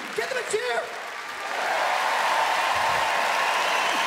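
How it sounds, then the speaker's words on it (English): Audience applause and cheering at a comedy festival gala in Melbourne, starting with scattered voices and a few claps, then swelling after a second and a half into sustained, dense clapping that fills the room. "Give them a cheer."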